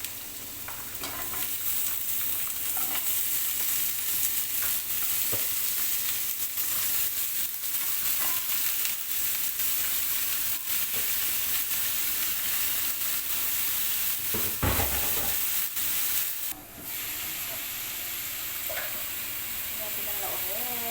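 Pork ribs frying with garlic and onion for adobo with sitaw, a loud continuous sizzle that lasts throughout with scraping stirs. There is a sharp clatter midway and a brief dip near the end.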